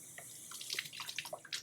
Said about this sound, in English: Now I'm just going to rinse with tap water